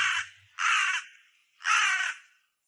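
Crows caw in a park, three loud, harsh calls spaced about a second apart, close by against otherwise quiet surroundings.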